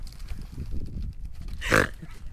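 A person imitates a pig with a short, loud, raspy grunt close to the microphone, preceded by low rumbling noise outdoors during a wadefishing trip at Port Mansfield.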